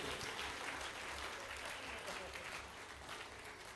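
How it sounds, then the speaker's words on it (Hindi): Sustained applause fills a hall at a Hindi kavi sammelan poetry gathering, dense and even throughout with a faint voice mixed underneath. "तालियां फिर कम बजा रहे हैं आप,"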